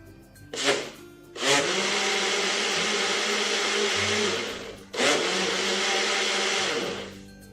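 Blender whirring as it mixes cold milk for a mango shake, two long loud motor runs of several seconds each, separated by a brief stop, steady and close, with no speech.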